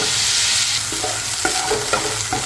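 Ground spices and ginger paste with a little water are sautéed in a pan, producing a loud steady sizzle with repeated spatula scrapes and taps up close, no voices.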